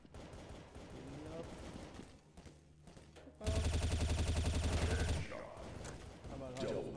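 Rapid bursts of automatic gunfire in Counter-Strike: Source ring out loud and close for a couple of seconds, surrounded by quieter game noise and scattered shots.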